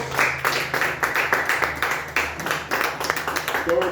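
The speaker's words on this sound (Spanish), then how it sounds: "Démosle un fuerte aplauso a nuestro Dios." Loud, steady applause from a church congregation, with some overlapping voices and cheering mixed in throughout.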